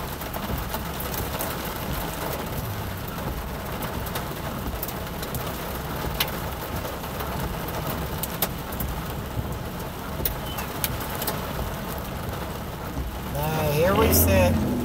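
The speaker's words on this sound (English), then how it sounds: "It's been hailing like crazy here." Hail pelts a car in Colorado, a constant crackling patter on the roof and glass with scattered sharper hits and a heavier burst near the end.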